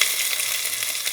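Ginger sizzling in hot oil with popped mustard seeds for a cauliflower masala, a steady bright hiss of frying, close and continuous, with no voices over it.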